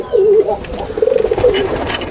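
A pigeon coos close by in a series of soft, throaty, wavering coos with no talking over them.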